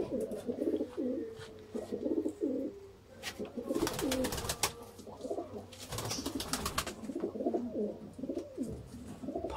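Golden pigeons coo in repeated soft, throaty phrases close by, with scattered sharp clicks and rustles from the birds moving around them.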